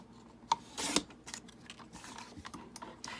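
Scissors snipping through a paper tag for a junk journal: a few quick, close cuts in a quiet room, the sharpest one about a second in.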